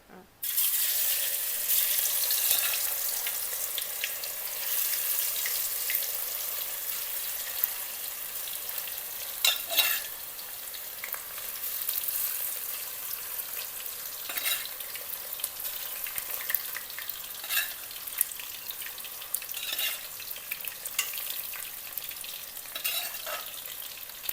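Fish marinated in pepper powder, chilli powder and turmeric fries in a home kitchen, a steady, even sizzle running throughout with occasional soft clicks and stirring sounds, close and moderately quiet.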